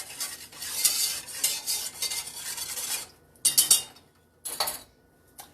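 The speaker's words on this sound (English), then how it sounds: "Bring to a boil and stir until it's dissolved." Spoon stirring a sugar mixture in a pot on the stove as it comes to a boil for Tennessee peach pudding, a steady scraping swish for about three seconds, then two short bursts of stirring after brief pauses.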